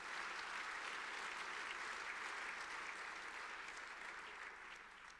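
Sustained applause from an audience at a French business awards evening, a dense steady wash of many hands clapping that fades slightly toward the end, with no talk over it.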